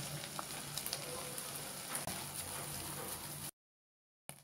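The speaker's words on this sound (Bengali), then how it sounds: "পেঁয়াজটা অলমোস্ট ভাজা হয়ে গেছে, এখন এখানে আদা বাটা ও রসুন বাটা 1 চা চামচ করে দিয়ে দিচ্ছি।" Onion sizzles in a pan with ginger and garlic paste for a fish curry, a soft continuous frying crackle with a few faint clinks, then a sudden brief silence before the sizzle returns.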